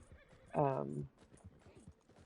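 A horse in a video game whinnies once, a bright quavering neigh lasting about half a second, amid soft rhythmic hoof clip-clops and faint background game sounds.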